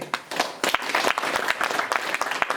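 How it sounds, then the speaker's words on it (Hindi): A crowd applauds with dense, steady clapping that continues throughout, fairly close and lively. "चले जोरदार तालियां वाला बच्ची को भी तालियां द्वारा धन्यवाद दे दे।"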